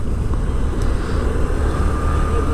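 Steady broadband road rumble and engine drone from a vehicle driving on the road toward Nandi Hills, continuous and fairly loud with no talking.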